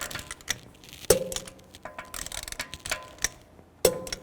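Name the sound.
torquing lug bolts on BMW X3 wheel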